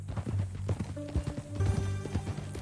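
A horse's hooves clip-clop at a steady walking pace in Red Dead Redemption 2, close and continuous over soft ambient game sound.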